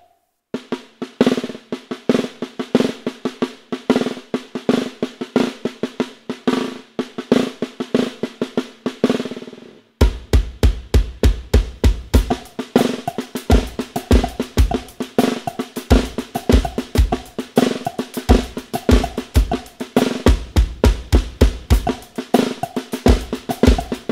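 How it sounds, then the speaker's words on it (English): A snare drum plays a traditional Brazilian maracatu pattern with one hand, in a steady, driving run of close strokes. After about ten seconds, heavier accented hits come in at regular intervals, with no talking. "this maracatu snare drum pattern sounds like this"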